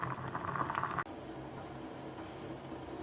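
Ash gourd vegetables for moor kulambu boil in a pot with a steady bubbling hiss, louder and busier for the first second and then settling into a quieter, even simmer.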